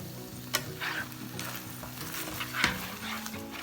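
Mango chicken in a spicy sauce stir-fries over high heat in a pan, with a continuous sizzle and a few sharp clatters of the utensil against the pan.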